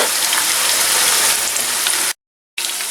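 Meatballs fry in hot oil in a pan, a loud dense crackling sizzle that runs steadily, breaks off briefly into silence, then resumes just as strongly.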